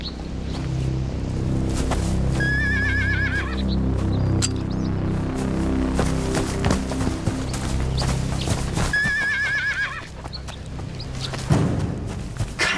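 Horses whinny repeatedly while hooves clip-clop steadily on the ground as riders pass, with a loud, busy low rumble underneath and two clear neighs standing out.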